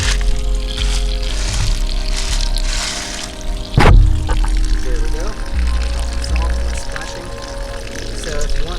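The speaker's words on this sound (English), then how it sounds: "This one seems to be splashing quite a bit." Water splashing and trickling in a hydroponic gutter bed system, a steady close pour with one sharp bump midway, while a person talks over it.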